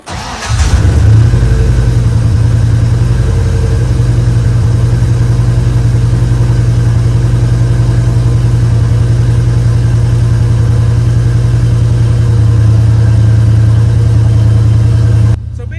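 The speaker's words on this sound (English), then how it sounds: "let's try this E85 cold start." A car engine cold-starting on E85 fuel, catching abruptly then holding a loud, steady low idle with a slight rev, close up and continuous for the whole stretch before cutting off at the end.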